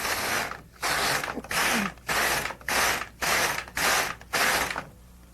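LK150 knitting machine carriage knitting rows, eight loud rasping passes back and forth in a steady rhythm, each separated by a short pause, close up with no talking.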